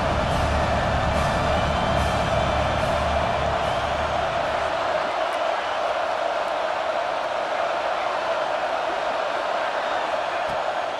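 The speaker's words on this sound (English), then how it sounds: "Big 3rd down as the crowd gets behind this defense." A steady, loud roar from a stadium crowd at a Florida versus Georgia college football game, rising behind the defense on a big third down, with no clear break across the stretch.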